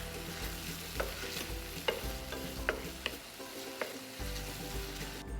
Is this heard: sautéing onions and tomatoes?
yes